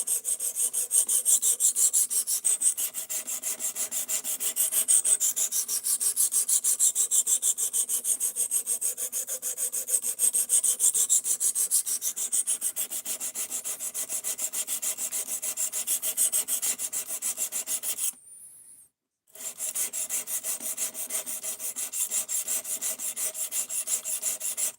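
A D2 steel knife blade is drawn steadily across a sharpening stone, making a continuous rasping rub in long repeated strokes, close and fairly even, with one brief gap of silence near the end.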